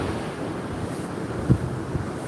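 Ocean surf at a beach washes in as a constant broad roar, mixed with wind buffeting the microphone and one low thump partway through.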